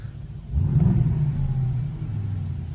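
Aston Martin DBX SUV engine gives a subdued, low exhaust rumble that swells briefly as the revs rise, then settles into a steady muted drone.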